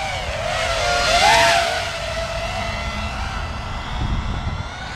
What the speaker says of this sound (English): An awesome, flying drift car.